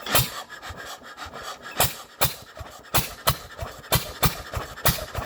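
A Ruston PB9 stationary engine, newly fitted with its head and overfilled with petrol, fires on the first swing and runs with a steady loud chuffing beat, each exhaust pulse sharp and evenly spaced.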